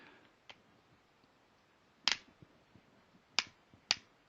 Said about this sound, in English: That's the only weird part about this is it clicks